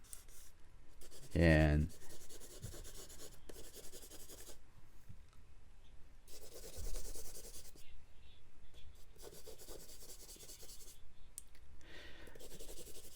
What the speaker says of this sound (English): Charcoal drawing is a very fun medium